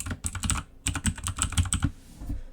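Quick bursts of keystrokes clatter on a computer keyboard as a terminal command is typed, with a brief pause between rapid runs of close, crisp clicks.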